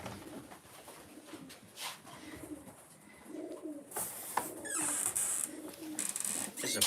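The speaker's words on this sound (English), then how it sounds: "This is a pretty looking pigeon." Racing pigeons in a loft coo softly with low, rolling murmurs, joined by wing flutters, scuffling and bright clattering bursts. The birds are close by, and the sound grows busier and louder toward the end.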